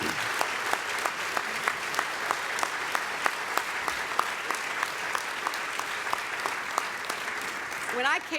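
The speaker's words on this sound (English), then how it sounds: "I want to give a round of applause to those who are the heart of our diplomacy" Audience applause at a State Department portrait unveiling, steady clapping from a large room with sharp individual claps standing out, continuing throughout.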